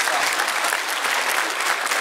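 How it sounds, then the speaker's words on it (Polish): An audience applauds the men at a Polish music gathering, a dense, steady wash of many hands clapping close by and evenly loud for the whole stretch, with no voices standing out. "teraz Państwo brawa dla mężczyzn"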